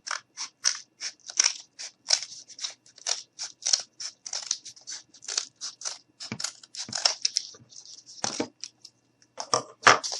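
Scissors snipping through cardboard while building a cardboard truck, a rapid series of crisp, close cutting crunches in an irregular rhythm, clear and alone in a quiet room.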